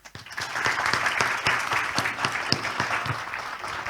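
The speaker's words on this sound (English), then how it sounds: "and a big round of applause" Audience applause for a panel discussion on Indonesian industrial policy: dense, steady clapping from a sizable crowd, sustained for several seconds with a few sharper individual claps standing out.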